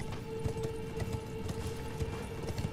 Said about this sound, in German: Dann reiten wir jetzt einfach den Weg entlang